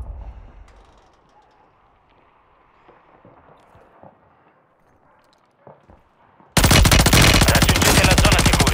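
Sustained, loud automatic gunfire in the Warzone battle royale game cuts in suddenly after a long quiet stretch of faint rustling and footsteps, a dense rapid stream of shots.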